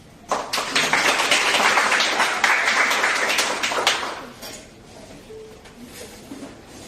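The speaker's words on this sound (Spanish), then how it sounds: "Se aceptan aplausos." An audience at an open class applauds a violin and viola group: a dense burst of clapping that starts suddenly, holds for about three and a half seconds, then fades to quiet room noise with faint voices.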